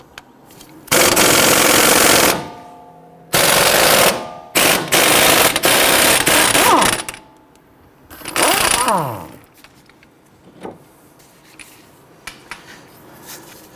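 An impact tool driving out an 18mm strut bolt on a 2011-2023 Dodge Charger front suspension, loud close bursts of rapid hammering with short pauses, then metallic clinks and a bolt being handled.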